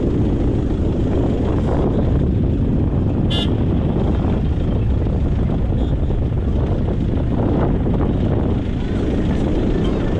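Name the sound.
strong wind blowing at the boat jetty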